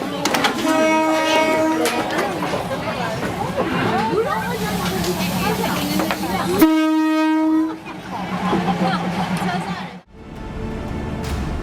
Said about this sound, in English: When a train approaches, merchants quickly clear their stalls to make way.